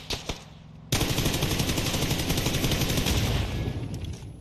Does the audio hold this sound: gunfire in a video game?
yes